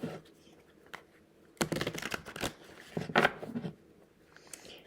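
Deck of cards given a ruffle shuffle by hand: quiet handling, then two bursts of rapid, close fluttering riffles separated by a brief pause, with softer card handling at the end.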